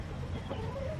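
A young backyard rooster chick clucks softly, a few faint, short calls over low background noise.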